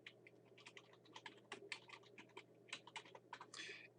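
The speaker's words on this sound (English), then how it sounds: "we're going to type average enrollment." Computer keyboard typing as text is entered into a PowerPoint 2013 table, a quick irregular run of close, crisp key clicks with short pauses, fairly quiet with no talking.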